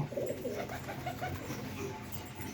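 Pigeons at a pigeon sale coo softly and repeatedly amid a steady background hum, several birds murmuring close together.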